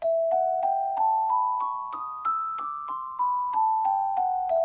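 An E melodic minor scale played note by note on a keyboard, rising step by step then descending, each tone struck evenly and clearly.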